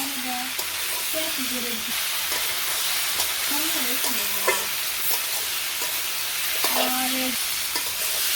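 Vegetables fry in a pan at a village kitchen, a steady broadband sizzle running throughout with faint stirring scrapes and some brief voice-like tones in the background.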